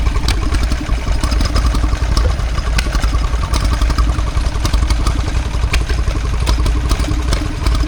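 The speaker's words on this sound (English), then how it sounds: "Here we see a Petter Handyman." A Petter Handyman stationary engine runs at a country show, a loud, steady, close chugging with rapid mechanical clatter that holds an even rhythm throughout.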